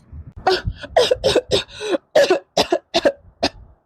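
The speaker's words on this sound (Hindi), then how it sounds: "मुझे तो इनकी खांसी सुन के भी डर लगता है।" A rapid, harsh fit of coughing, about a dozen close bursts in quick succession, loud and nearby with no talking.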